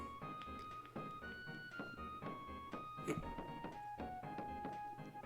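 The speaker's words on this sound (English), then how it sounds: "there's a tree thud noise as you walk into it" A soft thud from a character walking into a tree in the SNES role-playing game Arcana, landing briefly amid steady, bright chiptune music with regular percussive beats.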